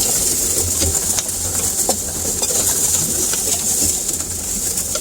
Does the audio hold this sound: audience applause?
no